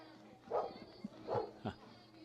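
A dog at a college baseball game gives two or three faint, short barks and yips at a distance, mixed with quiet crowd murmur and a voice in the background.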